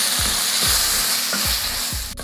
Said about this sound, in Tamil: இதெல்லாம் நல்லா வதக்கிடுவோம்.